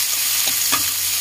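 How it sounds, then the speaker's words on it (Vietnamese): Tomatoes being stir-fried in a pan for Mekong Delta crab noodle soup, giving a brief steady sizzle with a couple of soft stirring scrapes, close and fairly loud, no voices. "mình xào cà như vậy nó cũng được rồi"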